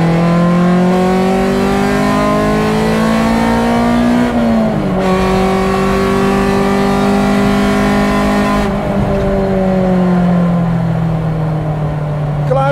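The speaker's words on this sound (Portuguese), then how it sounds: "Então veja, ó, terceira, você vai ouvir o VTEC entrando" Lightened Honda Civic with a B16 engine and a single intermediate exhaust muffler pulling hard in third gear on the road, a loud continuous engine drone that rises in pitch, shifts character as VTEC engages partway through, and keeps climbing to the end.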